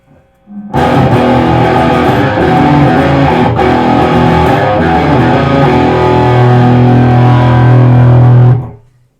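Electric guitar played through a BluGuitar Amp1 pedalboard amplifier on its modern channel, a loud, heavily distorted chord ringing and sustaining for about eight seconds before cutting off, with no talking.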